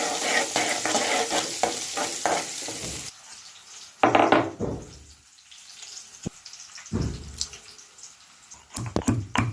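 Green chilli, cumin and onion sautéing in a pan, a loud broadband sizzle for the first three seconds, then quieter frying broken by spoon scrapes and clatters, with several short loud bursts of stirring and spitting oil.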